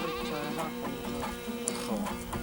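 Sheep bleat in a noisy rural setting, several wavering calls overlapping in a busy, steady background without clear talk.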